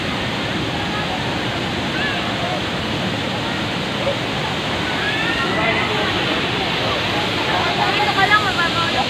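Steady rushing roar of Bolinao Falls, a waterfall with clear water, fills the whole stretch as continuous broadband noise, with people talking faintly over it.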